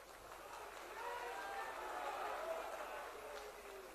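Crowd at a BJP political rally in Diamond Harbour, West Bengal, applauds in a faint, distant wash of clapping that swells midway and tapers slightly, with no individual claps standing out.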